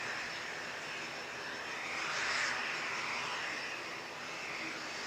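Jetstar airliner arriving from Melbourne in strong winds, a distant jet engine rumble with wind noise that swells briefly and then eases.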